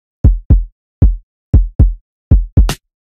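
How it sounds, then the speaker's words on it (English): Seven hits of a punchy kick drum sample from the Mastercraft pack, played in FL Studio, fall in an uneven pattern. Each is loud, with a sharp attack and a deep, quick-decaying boom, and stands alone against silence. "the kick is from Mastercraft pack. So yeah, just needed that nice punchy kick"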